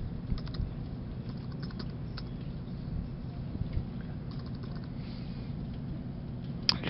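Quick bursts of typing on a computer keyboard while setting up a Windows XP machine, soft and fairly close, with irregular clusters of key clicks over faint room hum.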